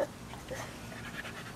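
A puppy panting close by in quick, soft breaths, faint and brief, with a little room noise around it.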